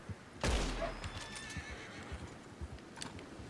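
A horse in the video game Red Dead Redemption 2 gives a sharp, loud whinny, followed by rhythmic galloping hoofbeats that continue at moderate volume over soft background ambience.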